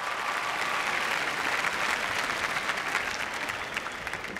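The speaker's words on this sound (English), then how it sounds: "please, another round of applause for Jonathan and Sam." Applause fills an awards ceremony hall, a continuous wash of many hands clapping from a large audience, steady and moderately distant, with no talk over it.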